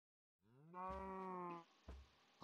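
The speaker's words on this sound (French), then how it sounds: "je peux tuer cette vache, cette pauvre vache" A cow in the Minecraft video game gives a single drawn-out moo, clear and alone, followed by a couple of soft thuds.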